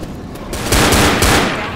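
Rapid gunfire from a first-person zombie shooter, Left 4 Dead, rattles in dense overlapping bursts that swell louder midway and continue without a break to the end.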